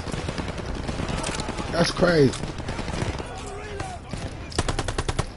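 Rapid machine-gun fire rattles through a Call of Duty Vanguard multiplayer match in sustained bursts, with a final burst near the end, while a player talks over it.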